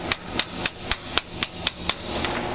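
Hammer tapping on a socket during hydraulic pump and gear work on a Ford 641 tractor: eight sharp, evenly spaced metallic taps, close and clear, with no talk.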